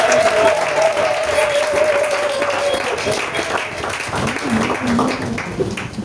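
A church congregation applauds in a steady, dense wash of clapping, loud and close, while a voice speaks over it at the start.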